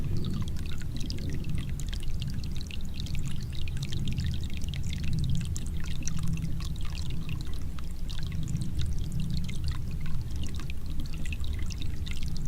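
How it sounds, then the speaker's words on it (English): Running water trickles steadily through a creek in a continuous, dense babble of splashes, fairly loud and close, with no talking over it. "A little trickle of running water"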